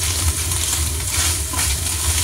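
Garlic and onion sizzle steadily in hot oil in a pan, a loud, continuous close frying hiss with faint stirring.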